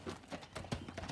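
Shod standardbred bay gelding, 12 years old with an uneven back leg, walking on hard ground: a steady series of close hoof clip-clops with an occasional hitch in the rhythm.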